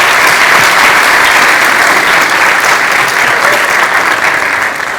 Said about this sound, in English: I will ask you again to please give a round of applause to our teachers